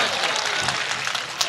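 Steady, dense applause from a mushaira poetry-gathering audience fills the whole moment, loud and continuous with no talking over it.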